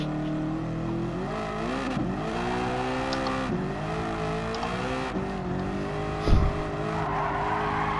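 A Toyota Supra races in a drifting video game, engine note climbing and dropping through gear changes with tire squeal and skidding, a steady mid-level roar with a brief thump partway through.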